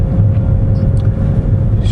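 Opel Astra K 1.6 CDTI diesel with manual gearbox runs at a steady low rumble, heard from inside the car and sounding close and continuous with no talking.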